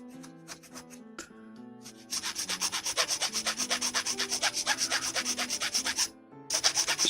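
A plastic part from a 1/144 HG Bandai Gundam model kit is sanded gently by hand, the close, rapid rhythmic rasping strokes starting after a few quieter rubs and continuing steadily with a brief pause near the end.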